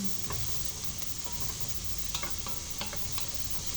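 Mushrooms hit a pan of bolognese sauce and sizzle steadily, close up, with scattered light clicks of stirring over the continuous fry and no voices.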